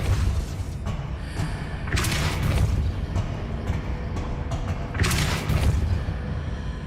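In the Hogwarts Legacy video game, two heavy Depulso force spell impacts boom out a few seconds apart, each a loud whooshing thump over a steady low game rumble.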